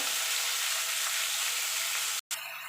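Sliced ridge gourd, potato and tomato fry in a pan while being stirred, a soft, even sizzle that drops out for a moment near the end and then resumes faintly.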